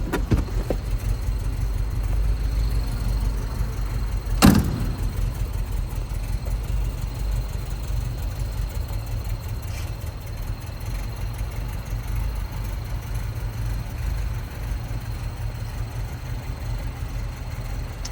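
A 1961 Mercedes 190SL engine idles steadily and close by, a low even rumble with one sharp click partway through, running alone without talk.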